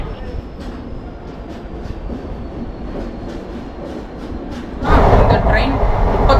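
The Yercaud Superfast Express, a 36-year-old train, departs Erode platform 3 and rumbles along with rhythmic wheel clacks while a voice talks over it; the roar swells louder near the end.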